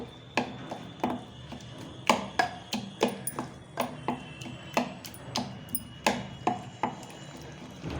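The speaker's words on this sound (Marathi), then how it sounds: "आता आपल्याला डाळ छान अशी रवीच्या साह्याने हातून घ्यायची आहे" Wooden churner (ravi) rhythmically knocking against a pot while mashing cooked dal with tomato by hand, a series of sharp, close wooden clacks at an uneven but steady pace, with no talking.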